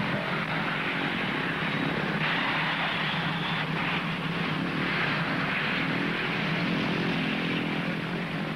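Propeller planes drone steadily overhead at the summit of Everest, a dense, continuous engine roar holding at a fairly loud level with no voices.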